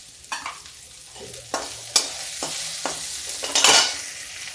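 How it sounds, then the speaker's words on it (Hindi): Onions cooking in a pan, a soft background sizzle with several sharp stirring scrapes spaced irregularly, close to the listener and moderately loud. "जब तक हमारा प्याज पक रहा"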